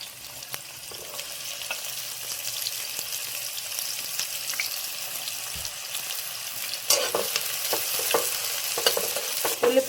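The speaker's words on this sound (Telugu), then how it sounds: "ఉల్లిపాయలు బాగా వేయించుకోవాలండి." Three thinly sliced onions frying in hot oil for a curry leaf chicken fry, a steady soft sizzle with intermittent stirring scrapes that grows louder and busier toward the end.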